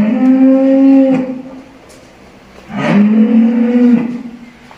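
A water buffalo at a livestock sale lets out two loud, close, drawn-out moos, each lasting over a second with a brief pause between them, with no voices over them.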